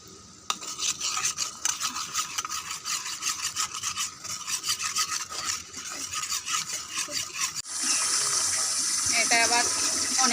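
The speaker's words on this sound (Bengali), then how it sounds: "একটু কর্নফ্লাওয়ার নিয়েছি, এটাকে একটু জল দিয়ে গুলে নেব।" Cornflour being stirred into a little water for a chilli chicken sauce, a steady rubbing, scraping swirl that runs continuously with a louder, brighter hiss near the end.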